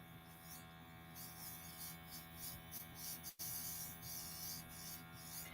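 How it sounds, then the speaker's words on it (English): A makeup airbrush runs with a steady, faint hiss over a constant electrical hum, and a short sharp break cuts in near the middle. "sometimes I go over my lips with the airbrush as well"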